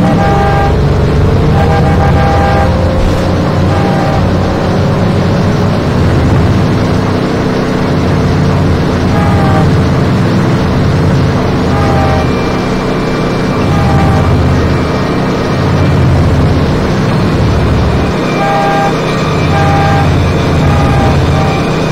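A car drives through the streets in The Godfather video game, its engine droning loudly and continuously, with horn toots and other traffic noise around it and no talk.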